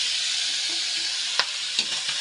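Cubed potatoes drop into pork afritada in a hot pan, where it sizzles steadily at close range. A few sharp clatters and bumps from the added pieces and utensil stand out near the end.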